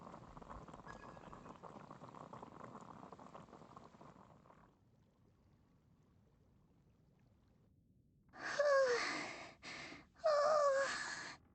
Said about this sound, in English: Boil some water.